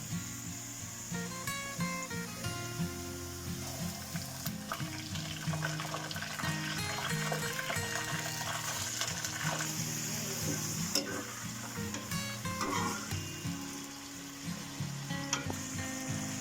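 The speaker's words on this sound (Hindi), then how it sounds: "तो अब मैंने डालना है इसमें गोश्त।" Meat goes into a pan of browning onions for a potato chicken curry, giving a steady moderate sizzle with scattered crackles and stirring clatter, under faint music.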